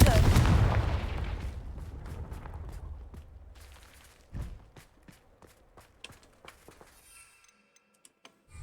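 In the video game Hogwarts Legacy, a Confringo fire-blast spell goes off as a sharp, loud burst that trails into a rumbling decay, followed by scattered clicks and a few softer impacts.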